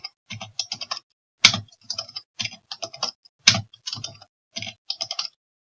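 Keys tapped on a computer keyboard in short irregular bursts, crisp close clicks with two sharper, louder keystrokes standing out, no talking.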